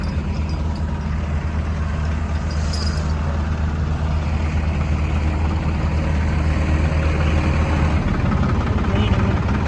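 A new 260 HP farm tractor engine runs steadily at close range, a loud continuous low rumble throughout, with faint voices mixed in underneath.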